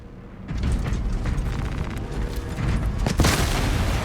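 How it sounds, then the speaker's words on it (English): A Melta Rifle firing in Space Marine 2, a continuous roaring blast with deep rumbling booms and crackling bursts that swell louder near the end, with no talking. "Melta Rifle."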